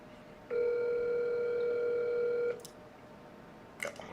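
A telephone tone sounds while a number is being called, one steady loud beep lasting about two seconds, followed by brief faint clicks and a short chirp in a quiet room.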